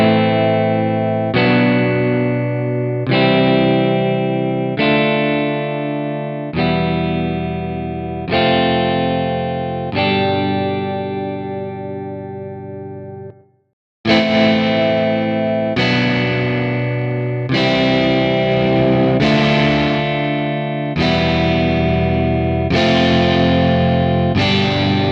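An electric guitar played through the Guitar Rig amp simulator sounds loud, distorted and effect-laden, with sustained chords changing every second or so and a brief cutoff midway, no talking.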